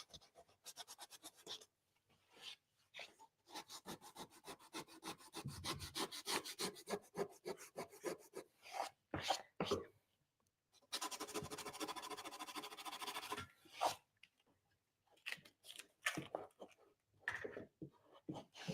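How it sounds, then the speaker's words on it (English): Close, rhythmic rasping strokes of sandpaper rubbing wood, in bursts separated by short pauses, fairly quiet. "Now I'm creating more sanding dust"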